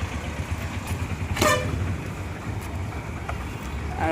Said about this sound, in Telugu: ఇది బస్సు వస్తుంది.